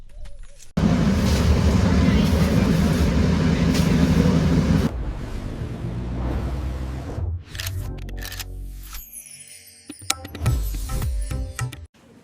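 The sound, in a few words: Yal Rani passenger train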